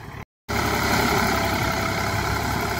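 Vehicle engines idle and run with a steady low rumble and hum, near and continuous after a brief dropout at the start, with no talking.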